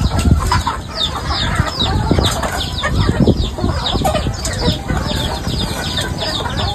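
Chickens at a backyard flock flap their wings and cluck loudly as one is being caught for slaughter, with frantic wing beats and squawks close by and bursts of agitated fowl calls throughout.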